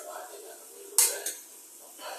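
A spoon scrapes and clinks against a pot while mutton biryani chicken gravy is stirred, giving two short metallic knocks over faint kitchen background.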